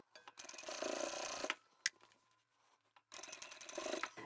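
A sewing machine triple stitches a craft bag lining in two quick bursts of rapid mechanical chatter, separated by a pause with a single sharp click, close and fairly quiet.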